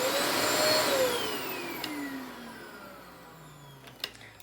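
A Hoover WindTunnel v2 upright vacuum cleaner motor runs with a steady whine that slowly drops in pitch as it winds down, fairly close, with a couple of small clicks near the end.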